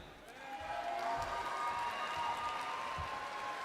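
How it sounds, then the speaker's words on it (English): Audience applause at a 2025 psychology graduation ceremony, a dense, sustained wash of clapping that swells early and holds steady through the moment, with some crowd murmur mixed in. "Please give yourselves a round of applause"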